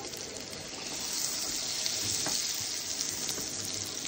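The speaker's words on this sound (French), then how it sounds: "Je mets une noix de beurre, enfin un morceau de beurre. Dans ma poêle." A knob of butter sizzles in a frying pan with a gentle, even hiss that grows slightly louder partway through. Faint stirring clicks are heard, and no voice.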